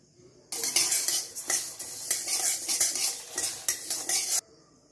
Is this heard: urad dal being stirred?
yes